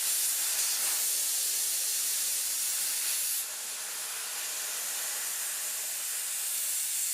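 Compressed air hisses steadily from the drain of a small air compressor tank, a loud continuous rush that dips slightly partway through and then carries on, with no talking.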